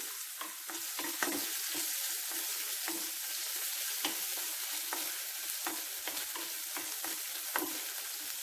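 Crushed roasted garlic frying in a pan for garlic rasam, a continuous close sizzle broken by frequent crackles and spatters, with some stirring and no voices.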